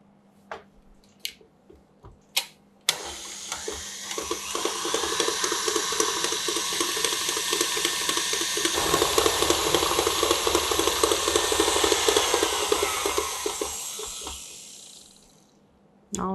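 An electric hand mixer beats egg into vanilla cupcake batter, running steadily and loudly for about twelve seconds with a whirring, slightly rattling tone before winding down. A few light taps and clicks come first.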